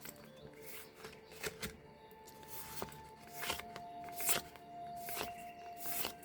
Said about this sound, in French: j'adore le bruit des cartes